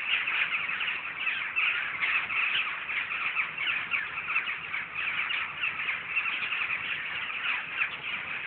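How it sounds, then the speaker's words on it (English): Dense, continuous cawing of a huge flock of thousands of crows at Film City, a steady overlapping chorus at moderate loudness throughout with no pauses. "See those crows again."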